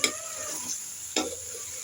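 Peas go into a chicken curry frying in a pan: a steady close sizzle with two distinct scraping stirs of the spoon, one at the start and another partway through.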